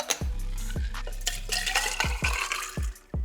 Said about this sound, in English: Now pour into your rocks glass.